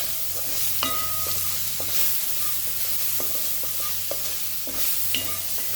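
Chopped onions with salt frying in a pan over raised heat, a steady close sizzle broken by light scrapes and taps of a stirring spoon.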